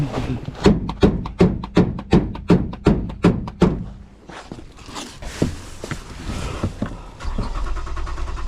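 A 2015 Toyota Sienna engine cranks without catching: a loud, steady chugging of about a dozen even starter beats over four seconds, then the cranking stops and leaves rumbling background noise and movement.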